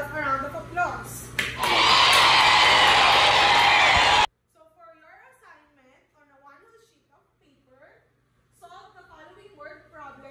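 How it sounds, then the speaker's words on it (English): Students in a math classroom applaud in a loud, dense burst of clapping that fills the first four seconds, then cuts off abruptly, leaving quiet speech. "So give yourself a round of applause."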